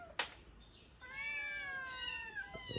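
A kitten shut in a cage gives one long, drawn-out meow, faint and close, after a brief click at the start, in a quiet indoor room.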